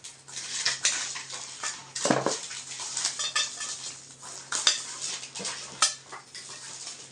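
A newly unboxed nonstick chicken fry pan being handled, with light metallic clinks, taps and scraping rattles close by, irregular and fairly quiet.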